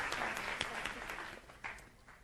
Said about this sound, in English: Let us give another round of applause to our guest speaker today